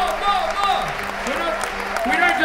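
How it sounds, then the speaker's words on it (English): An audience at an Adelaide Fringe 2013 show by The Deer Johns keeps up a steady patter of clapping, with a voice speaking over it throughout. "Yes, more clapping."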